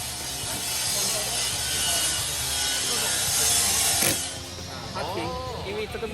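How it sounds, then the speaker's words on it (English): A Makita TD001G cordless impact driver runs in assist mode 2, driving into wood with a steady, dense mechanical whir and rattle that drops off near the end. A voice talks over the tool. "Let's see what happens if you use the assist mode 2 on wood."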